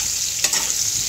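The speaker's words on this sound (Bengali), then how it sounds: "পটল আলু ভাজছি" Pointed gourd and potatoes fry in a pan, a steady close hiss of sizzling oil with one brief stir scraping partway through.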